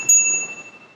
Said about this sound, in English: we get an included bell